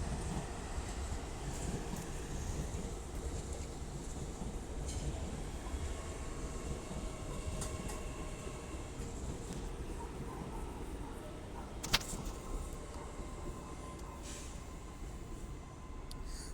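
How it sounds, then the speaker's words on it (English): An LNER Azuma Class 800 train, unit 800208, runs through Doncaster on the York to London King's Cross service. A faint, steady rumble and rolling hiss carries on throughout, broken by one sharp click near the end. "1051 LNER Zuma from York to London King's Cross. Works by 800 208."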